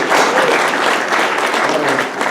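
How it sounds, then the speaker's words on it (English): Loud, close round of applause from members at a Rotary Club meeting honouring a women's basketball team, a full burst of many people clapping that holds steady for a couple of seconds. "I think that the ladies deserve a big round of applause"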